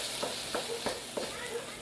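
Szechuan beef stir-fried in a pan, a steady hiss of sizzling oil broken by several short scraping stirs at a regular pace.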